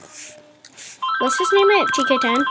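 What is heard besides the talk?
telephone ringing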